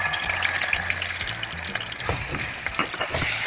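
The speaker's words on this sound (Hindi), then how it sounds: "तो अब मैं इसके अंदर ये खशखश डाल रही हूँ।" Poppy seeds stirred into a hot frying pan while cooking an egg and poppy seed dish, giving a steady close sizzle with scraping and stirring sounds, no talking.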